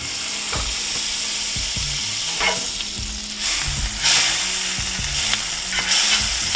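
Butter sizzling in a hot pan while a ham and cheese sandwich cooks: a loud, continuous crackling fry close up, with a few scraping and shifting noises and occasional brighter bursts.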